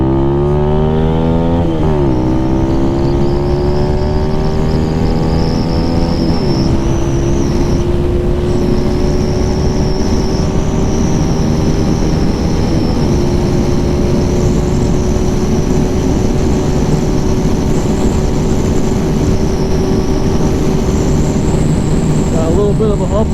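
A Lifan KPM 200cc motorcycle on a top speed run, engine rising sharply through a couple of quick gear changes early on, then holding a loud, steady high-revving drone under constant wind rush.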